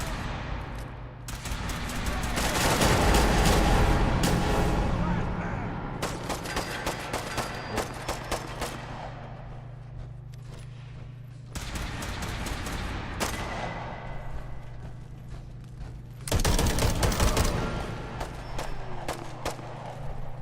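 Rapid bursts of gunfire from a gun in Fallout 4, with dense volleys and sharp repeated cracks that swell and fade in waves over a steady droning background, loud and close.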